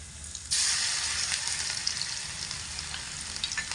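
Garlic paste hits hot mustard oil with a sudden loud burst of sizzling that holds steady, then eases slightly while crackles and pops continue close by, with no speech.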